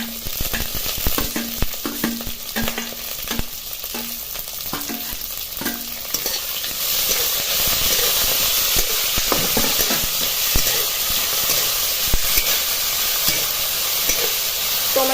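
Chopped tomatoes sizzle in hot oil in a pan for a dry soybean sabzi, with scraping stirs early on. The frying hiss swells into a louder, steady sizzle partway through.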